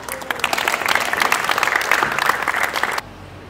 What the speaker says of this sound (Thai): ขอเสียงปรบมือดังๆให้กับนักกีฬาอีกครั้งหนึ่งนะคะ